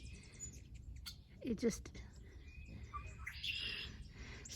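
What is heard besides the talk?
red-winged blackbird singing, hummingbirds buzzing near bird feeders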